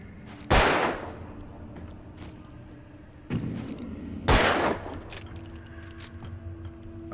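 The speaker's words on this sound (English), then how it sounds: "I wanted to shoot the cans, but I missed twice at point blank" Two sharp, loud gunshots crack near 0.5 and 4.3 seconds as cans are fired at in the video game Alan Wake II, with a softer impact between them over a low ambient game hum.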